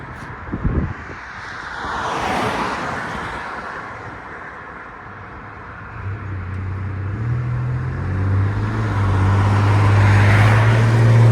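A 1992 GMC Sonoma pickup with a 4.3L V6 and knockoff Flowmaster dual exhaust rumbles nearby, the low exhaust drone swelling louder toward the end under some wind noise.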